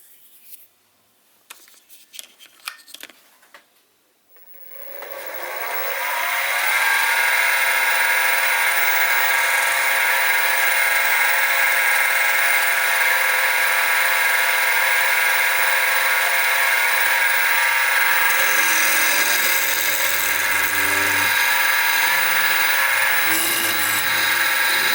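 Drilling holes with a 4mm drill bit on a Soba rotary table: a steady, loud, high-pitched whine of the machine running continuously after a few quiet clicks and handling sounds, with the pitch shifting slightly near the end.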